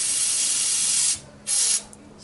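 A can of carburetor cleaner sprays in two loud, close hissing bursts, a long blast followed by a shorter one after a brief pause, with no talking.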